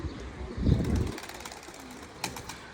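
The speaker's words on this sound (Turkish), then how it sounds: "Yine kuşları birbirine kattın Cengiz Han." Low, throaty coos of homing pigeons in a loft rumble close by for a moment, then fade into quieter background with a faint flutter or rustle later.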